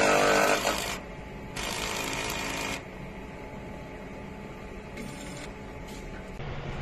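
An eco solvent printer runs a print head cleaning cycle, giving steady mechanical whirring and buzzing with loud bursts at the start, middle and end over a constant motor hum. No one speaks.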